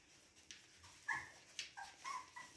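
Husky puppies whimper and yip softly in a quiet room, with a few short high whines spread across the moment, faint and near, no talk.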